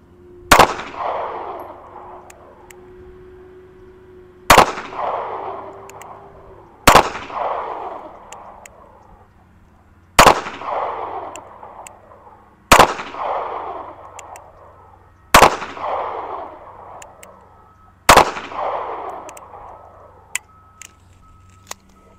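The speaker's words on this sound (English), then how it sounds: "I'm going to start shooting the Bodyguard at the large circle that's on the bottom, and then the LCP will shoot the one that's on the top." Slow-fire pistol shots from a Smith & Wesson Bodyguard .380 and a Ruger LCP II at an outdoor range: seven sharp, loud reports spaced a few seconds apart, each followed by a short echoing decay, with no talking.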